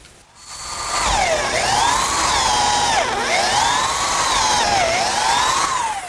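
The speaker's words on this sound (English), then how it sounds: "Okay, now I can switch to a 3/8 inch diameter bit and drill a hole all the way through for the bolt." A 3/8 inch bit drills a hole straight through wood for a carriage bolt, a loud, steady whining power drill that runs continuously with pitch dips as the bit loads up, and no talking.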